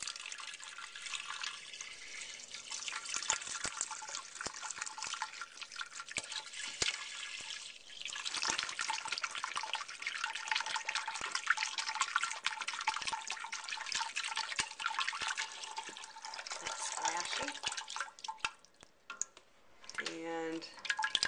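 A quart of broth is poured into a soup pot for French onion soup, making a steady, soft splashing and trickling that runs almost continuously before tapering off near the end.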